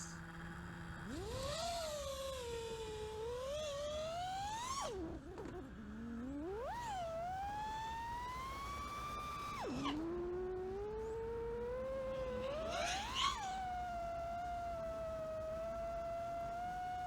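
An FPV quadcopter with MEPS SZ2207 motors and fresh propellers flies, its motors whining and swooping in pitch as the throttle rises and falls, steady and fairly close over about seventeen seconds, with no talking.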